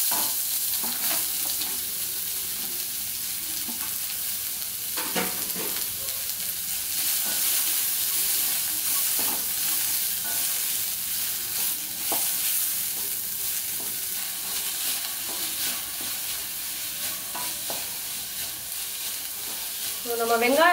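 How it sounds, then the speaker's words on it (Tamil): Onions, green chillies and curry leaves sauté in a pan, a steady close sizzle with occasional scrapes and stirring clinks running throughout. "ஸோ இதை வந்து நம்ம அப்படியே சேர்த்து வதக்கிடுவோம்"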